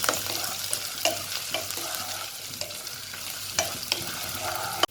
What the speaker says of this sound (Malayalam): ഇനി നമുക്ക് വെളുത്തുള്ളി ഇഞ്ചി പേസ്റ്റ് അങ്ങ് ഇട്ട് കൊടുക്കാം.